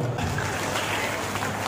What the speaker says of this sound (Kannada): ಸೊ ಜೋರ ಚಪ್ಪಾಳೆ ಬರಲಿ